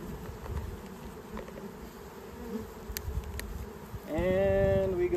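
A steady drone of many honey bees scooped up for a varroa mite wash, a dense hum that swells louder near the end with a sharper, higher-pitched whine on top.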